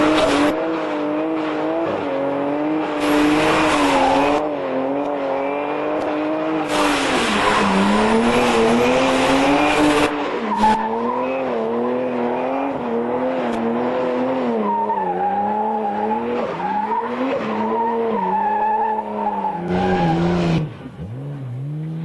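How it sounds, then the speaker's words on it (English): A four-wheel-drive Holden Liberty race car revs hard through a burnout, its engine note rising and falling continuously with bursts of tire squeal and skidding, loud and close throughout. "Maybe a burnout will dry it out a bit."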